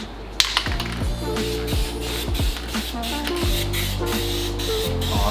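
A spray paint can hisses steadily while coating the fender flares of a Subaru WRX STI, a close, continuous spray broken by brief pauses, with repeated falling tonal sweeps running underneath.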